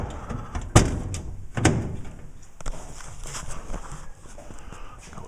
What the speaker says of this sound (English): I'm going to put the bottom cover on